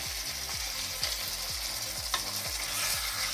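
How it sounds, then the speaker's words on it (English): Cooked gnocchi gently stirred in a pan with sugar, a soft steady sizzle under rhythmic scraping turns of a utensil, quiet and close. "Just turn them, mix them gently."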